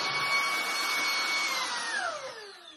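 A broken vacuum cleaner runs steadily with a whining motor hum and airy rush, its pitch dropping as it winds down near the end, close and fairly loud.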